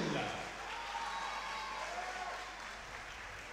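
Audience applauding at an amateur boxing match, a steady wash of clapping that starts loud and slowly fades over a few seconds, with a voice faintly present underneath.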